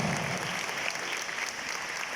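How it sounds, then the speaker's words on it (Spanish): An audience at a diocesan teachers' gathering in the Archdiocese of Xalapa gives another round of applause, a soft, steady patter of many hands heard from a distance. "Les invito para que demos otro fuerte aplauso al señor Jorge Carlos"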